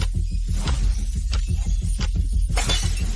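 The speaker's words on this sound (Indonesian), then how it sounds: "Begitu banyak tablet jiwa yang hancur." Soul tablets shattering in a fantasy martial-arts drama, rendered as a dense run of loud repeated cracking and breaking bursts over a heavy low rumble, with no speech.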